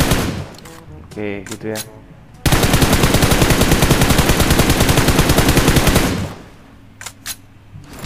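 Sustained automatic rifle fire in PUBG Mobile, a loud rapid burst of shots lasting several seconds, with brief talk before and after and a few stray clicks.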